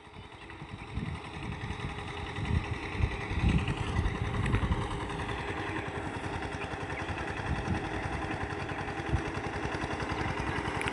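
A tractor engine chugs steadily throughout, a continuous low mechanical rumble with no voices, outdoors.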